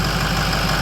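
A project truck's engine runs steadily right after starting, a loud, close, continuous idle rumble with no other sounds over it.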